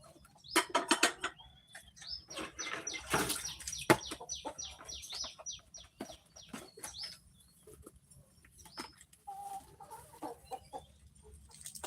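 Backyard chickens in rural Buriram, Thailand cluck and squawk repeatedly nearby, a busy flurry of calls with some sharper clatter early on, then quieter scattered clucking.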